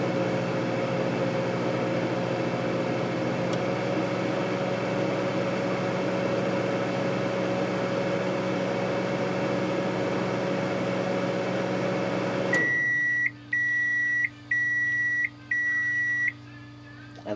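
A vintage 1987 GE SpaceMaker II 1200-watt microwave oven hums steadily with a low, even drone, then changes tone near the end as several short, evenly spaced electronic beeps ring out.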